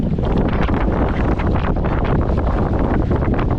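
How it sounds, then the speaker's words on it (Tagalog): Strong wind at sea during a typhoon roars continuously across the microphone, a loud, dense, unbroken rumble and buffeting with no pauses. "Hangin, lakas."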